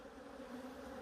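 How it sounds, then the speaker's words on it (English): Honeybees buzzing at an apiary hive during a quarantine inspection, a dense, steady drone of many bees close by, continuous and even with no voices. "I have to shake all the bees off each time."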